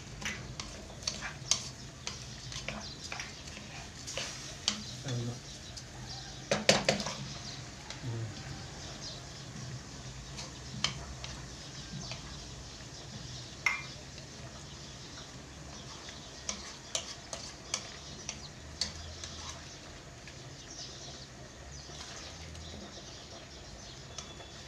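Rice and vermicelli being stirred in a cooking pot, giving a soft, faint run of scraping and ticking taps that continues steadily with scattered sharper clicks.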